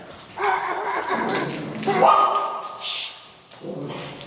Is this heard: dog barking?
yes